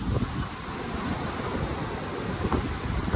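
Wind gusting across the microphone over rolling surf at Hyams Beach in Jervis Bay on a hot, breezy day, a continuous broadband roar with low rumbling buffets and no voices.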